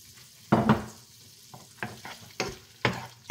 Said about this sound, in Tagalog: Medyo ipiprito natin ng konti yung ating mushroom.